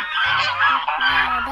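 A short burst of loud, nasal honking calls from a duck, two quick calls close up with no talking.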